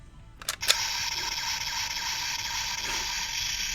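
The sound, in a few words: Gashat capsule toy Kimewaza sound effect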